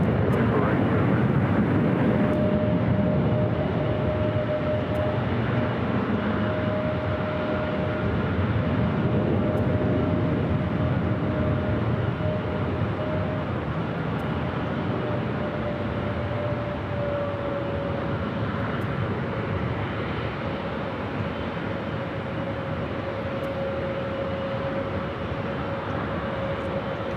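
An Airbus A321neo airliner at LAX produces a steady, loud jet roar with a sustained tonal whine, holding level for the whole stretch like a plane taxiing or passing nearby.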